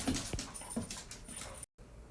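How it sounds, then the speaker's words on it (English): Dogs whimper and whine indoors in the background, a few soft, high whines and faint yips at low volume, with no talking. "I think the dogs are going to be quiet now."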